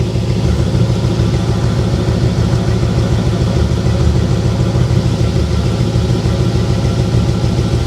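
A 1953 Pontiac Chieftain engine idles cold with no choke in a garage, giving a loud, steady, close rumble with an even pulsing throb throughout and no talking.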